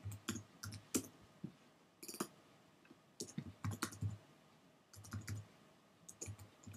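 Quiet clicking of a computer keyboard while entering a word in an Xcode project, in short irregular bursts of keystrokes separated by brief pauses, close and alone.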